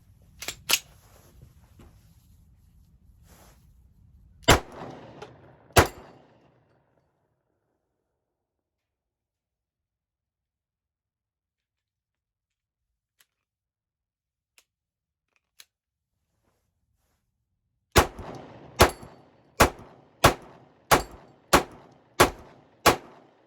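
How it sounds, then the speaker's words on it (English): Glock 19 pistol shots at a target: a few sharp reports with a long quiet gap, then a fast string of about eight evenly spaced loud cracks, close and without talk. "So let's continue shooting, and then we're gonna shoot at the other target to see how well we can hit it."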